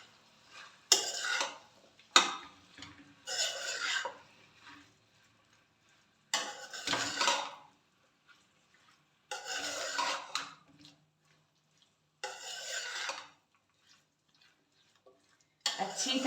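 Sour eggplant being stirred in a cooking pot, heard as bursts of scraping and rubbing against the pot that come and go with short silent gaps between them.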